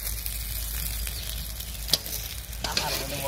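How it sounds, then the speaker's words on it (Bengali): Eggplant slices frying in oil sizzle steadily up close, with a few sharp clicks and clatters of stirring near the end and no talking. "বেগুন ভাজা হয়ে গেছে নামাইতে পারবো বেগুন ভাজাটা"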